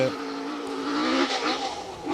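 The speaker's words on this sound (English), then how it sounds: "V8 Thunder of the TR7" A V8-engined Triumph TR7 rally car driven on a rally stage roars past, its engine note rising and swelling briefly before easing off, with a commentator's voice faintly underneath.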